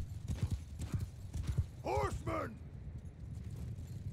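Mounted archers' horses in Mount and Blade 2 Bannerlord make rapid, steady clip-clop hoofbeats, with a sharp whinny or two in the middle and quiet talk underneath.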